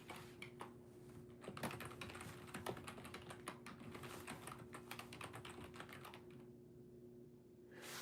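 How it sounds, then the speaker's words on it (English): Quiet typing on a computer keyboard, a rapid irregular run of light key clicks close to the microphone, breaking off briefly near the end over a faint steady electrical hum. "I'm going to type it."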